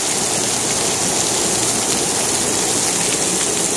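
Heavy rain pours down steadily, a dense, loud, unbroken hiss of water hitting surfaces nearby with no pauses and no voices.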